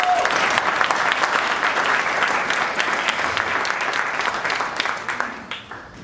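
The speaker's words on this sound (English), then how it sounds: "Round of applause for that." Steady, dense applause from an audience at a cannabis and beer gathering, loud and sustained before thinning and fading out near the end.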